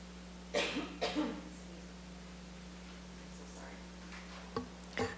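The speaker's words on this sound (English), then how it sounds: "Sorry, I didn't want to cough into the microphone there." Someone at a city council meeting coughs several times away from the microphone, producing muffled bursts over a steady hum, with one more cough near the end.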